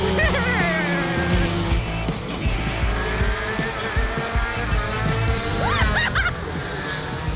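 Shifter go-kart driving hard around a track, its engine revving up and down between gear changes with whining pitch sweeps and tire squeal, loud and close throughout.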